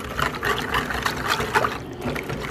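Water poured into a dog food supplement for an American Bully puppy makes a close, continuous trickling splash with uneven gurgles that runs the whole time.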